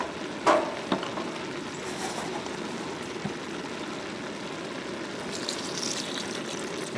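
Water added to a camp stew pot by a river sets off a steady, fairly loud sizzle with a hissing, bubbling texture, preceded by a couple of brief clanks near the start, with no talking.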